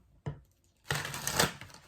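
Tarot cards being shuffled by hand, a short riffle burst followed by a longer, denser papery shuffle that runs close and fairly loud with no talk over it.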